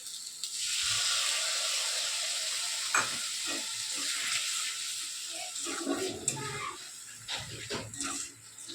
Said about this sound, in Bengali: এরপরে আমি যে টমেটো পেস্টটা করে রেখেছিলাম সেই টমেটোটা আমি এবারে দিয়ে দেবো।